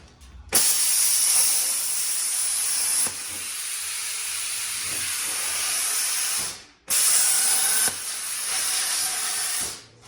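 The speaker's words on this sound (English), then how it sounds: "I'm gonna cut this out with a plasma cutter" Plasma cutter slicing through the swing arm of a 1982 Honda 250R three-wheeler: loud, steady roaring hiss in two long bursts with a short gap between, close and alone.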